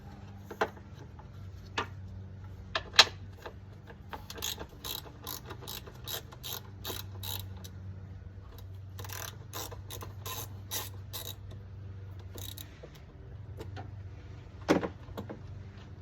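A hand ratchet with a 1/2 inch deep socket backs off fog light mounting bolts on a second-generation Dodge truck, giving bursts of rapid clicking with a few sharp knocks, close and moderately loud over a low steady hum.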